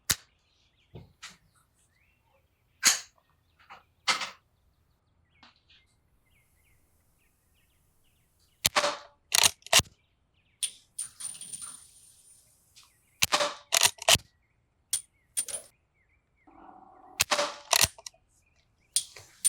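A .38/.357 revolver is fired outdoors at a target, with sharp, loud gunshot cracks spaced irregularly across the stretch. Quieter clicks and handling noises fall between the shots.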